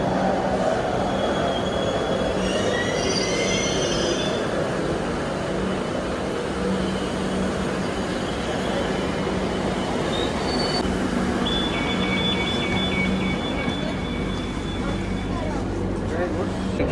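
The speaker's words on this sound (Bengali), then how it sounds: "চলে এসছে ফাইনালি আমাদের মেট্রো" A metro train pulls into an underground station, a loud steady rumble of wheels on rail with high brake and wheel squeals rising over it, constant throughout amid crowd murmur and voices.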